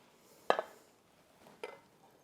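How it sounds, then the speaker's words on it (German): A frying pan lifted off the stove after cooking an omelette gives two short, close metallic clanks about a second apart, with no talking. "Dann greifen wir die Pfanne von hier unten"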